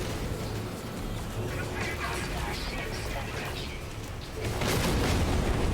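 A rocket explosion strikes an enemy fighter ship during a space battle in No Man's Sky, a sustained loud rumbling blast that swells louder near the end, with game noise throughout.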